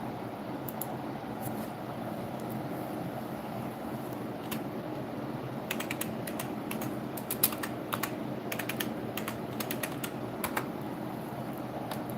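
Keys clatter on a computer keyboard in a quick, irregular patter of light clicks, close but fairly soft over a steady background hum.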